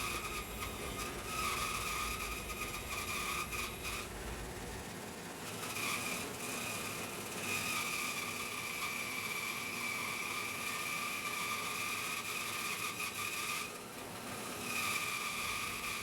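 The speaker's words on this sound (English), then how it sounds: "I'm resawing the material that's going to become the seat" A restored, salvaged bandsaw resaws wood for a seat, a steady, high whining rush of blade through the board that runs continuously and dips briefly twice, with no talk.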